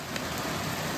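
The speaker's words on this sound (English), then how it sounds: "it is rainy season, guys, and the rains have finally came" Steady rainfall at the start of rainy season, a dense, continuous hiss of drops on surfaces, loud and close with no speech over it.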